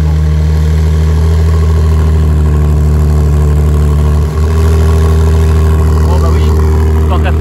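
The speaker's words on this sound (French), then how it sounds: "est-ce que on va assister au start-up de la 296 GTS?" A Ferrari 296 GTS idles steadily with a deep, loud, continuous engine hum, close by, with a brief dip partway through and voices talking over it.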